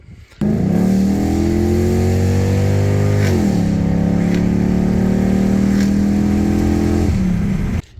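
Car with a 1UZ engine and reworked exhaust revving, a loud steady drone that dips briefly in pitch partway through before holding again, then cutting off near the end with no talk.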